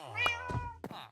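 Ginger cat meowing in Minecraft 1.20, three short game meows in quick succession, close and clear with no talk over them.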